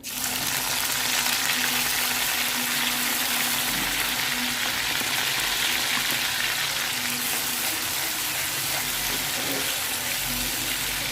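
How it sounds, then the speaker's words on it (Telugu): Dried shrimp crackle and sizzle in hot oil in a kadai, a steady, dense frying hiss close up that runs the whole time without a break. "నూనె కాగింది రొయ్యలు వేస్తున్నాను ఎండు రొయ్యలు"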